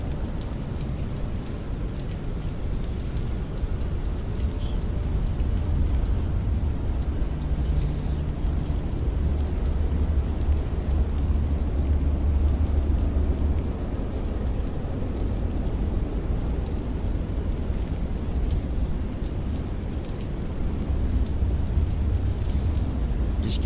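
Rain and rumbling thunder in Microsoft Flight Simulator 2024 form a steady, dense wash of rainfall with low, rolling thunder swelling through the middle, continuous and fairly loud.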